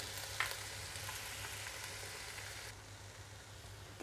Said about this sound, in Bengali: স্বাদ মতো লবণ দিয়ে আমি চালটা খুব ভালোভাবে ভেজে নিব